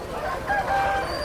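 A rooster crows at a poultry market in Gokavaram, a single short, fairly close call with harmonic tones that stands out against the market's background noise.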